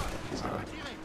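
Gunfire and cannon fire in the Assassin's Creed Rogue video game, dense booming and crackling shots in a thick rumbling wash, with a voice talking faintly underneath.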